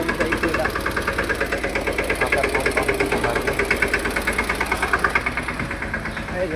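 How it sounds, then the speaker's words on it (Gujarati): A farm tractor engine running close by, a steady rapid chugging pulse with knocking, under intermittent talk. "ટ્રેક્ટર ચલાવે છે"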